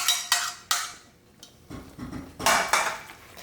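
A spoon clanks and scrapes against a pot while mac and cheese with shrimp is stirred, a few sharp metallic knocks followed by softer scraping, close and clear with no talk.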